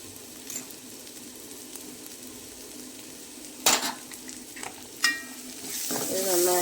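Ground turmeric, Kashmiri chili powder and garam masala are stirred as they fry in a pan for Kerala tomato rice, giving a steady close sizzle with occasional spoon scrapes and clinks against the pan.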